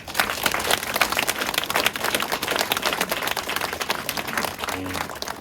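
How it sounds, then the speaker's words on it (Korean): A church congregation claps at a founding thanksgiving worship service, a dense steady burst of many hands sustained for several seconds with no pause, loud and close. "우리 박수하겠습니다"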